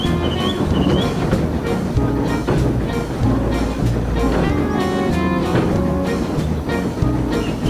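A train rolls along rails with a steady rumbling roar, rhythmic clicking of wheels over joints and occasional squeals, loud and continuous with no voices.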